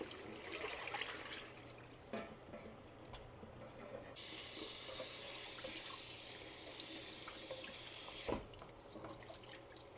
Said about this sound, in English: go rinse it with cold water